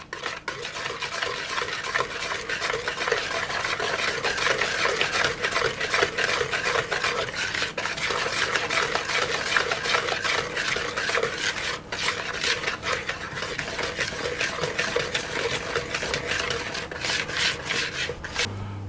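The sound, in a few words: mixing flour into oatmeal cookie dough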